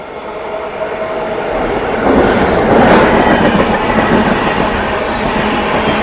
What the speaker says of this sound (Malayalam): നേത്രാവതി എക്സ്പ്രസ് ആണ് പോകുന്നത്.